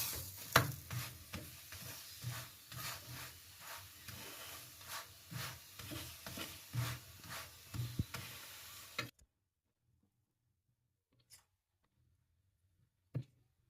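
A beetroot paratha fries in oil on a pan while being pressed down, making soft crackling sizzles with rhythmic pressing thumps for about nine seconds, then near silence with two faint clicks.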